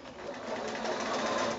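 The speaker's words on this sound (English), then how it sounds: "sew now just about a quarter of an inch down from the previous line of sewing all the way around" Sewing machine running steadily while top stitching around the edge of a small quilted bag made from six-inch squares, a continuous close whir with no breaks.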